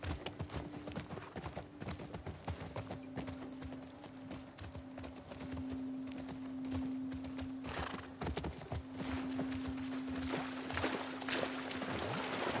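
Horse hooves clip-clopping in the video game The Last of Us Part 2, a steady rhythmic clatter with whinnies and a sustained tonal hum, continuous and fairly close throughout.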